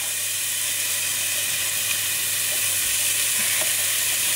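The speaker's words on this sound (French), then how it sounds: "On va venir mettre les oignons rouges et l'ail." Red onions and garlic dropped into melted coconut oil, sizzling with a steady, close, bright frying hiss for several seconds and no talking.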